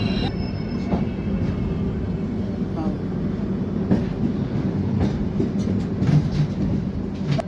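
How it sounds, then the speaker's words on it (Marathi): An Indore–Daund superfast express running on the rails, heard from inside as a steady loud rumble with rhythmic wheel clatter and faint squeals, with voices murmuring underneath. "6:05 आपली ट्रेन जी आहे ती उज्जैनवरून निघालेली आहे"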